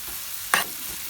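Onions sizzle steadily in a pan while cooking for butter paneer, a low hiss under one brief, louder stirring scrape midway.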